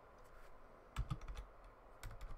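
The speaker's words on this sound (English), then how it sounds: "I'm typing as I'm talking." Someone types on a computer keyboard in quick, light bursts of clicks, close but fairly quiet, with a brief gap between the two clusters of keystrokes.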